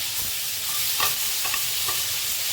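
Sliced radish frying in a kadai, a steady close sizzle with a few light stirring scrapes, continuous and fairly loud with no talk.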